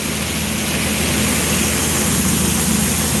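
A John Deere tractor engine idles steadily with a low, constant drone and a droning propeller-like hum, close by and unchanging throughout, with no voices.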